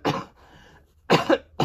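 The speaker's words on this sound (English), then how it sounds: "Sorry, I'm going to cough, guys." Two or three harsh coughs close to the mic, separated by a brief quieter gap, with no talking.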